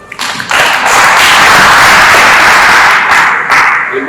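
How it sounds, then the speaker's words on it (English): An audience at a stakeholders retreat claps hands together, a loud, dense burst of applause that swells quickly and holds steady for several seconds before tapering slightly. "Can you clap your hands?"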